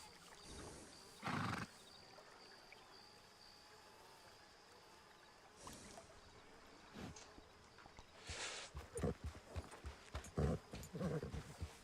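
A horse ridden in the video game Ghost of 1898 clip-clops in bursts of hoofbeats, with an occasional snort or whinny, faint at first and growing busier toward the end.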